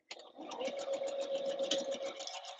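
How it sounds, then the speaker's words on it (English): A sewing machine stitches dress pieces in one continuous close whir lasting a couple of seconds, with a faint voice present. "Start sewing these up again."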